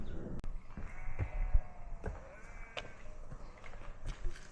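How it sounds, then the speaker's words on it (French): A flock of sheep guarded by livestock dogs on a mountain trail in the French Alps, scattered bleats near and far over a steady outdoor rumble. "On croise à nouveau un troupeau de moutons avec des patous"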